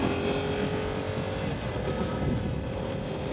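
Yamaha R7 sport motorcycle being ridden with a light throttle, a steady close engine hum with wind rush and faint rhythmic pulsing, no talk.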